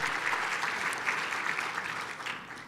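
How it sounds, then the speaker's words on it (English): A crowd at a prayer luncheon applauds steadily, a dense wash of clapping at moderate volume that holds throughout with no voices. "Let's give everybody a round of applause for this wonderful week"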